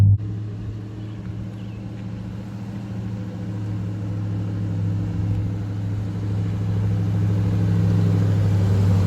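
A Dodge Charger R/T's engine idles with a steady low rumble that swells slightly near the end, heard close and alone with no talking.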